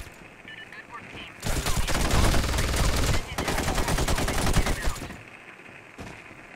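Dense gunfire bursts from the tactical shooter video game SOCOM Combined Assault, rapid automatic fire running loud and continuous for several seconds before cutting off, with quieter game ambience at either end.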